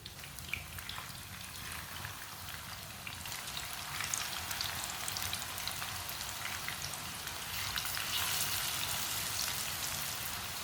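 Long potato sticks fry in hot oil, giving a continuous soft crackle and sizzle that stays fairly quiet and even throughout, with no voices.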